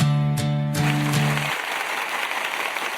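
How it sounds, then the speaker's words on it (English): Canned applause sound effect, a dense hiss of clapping that swells briefly under a short tonal jingle and then continues alone at an even level. "Hold the applause."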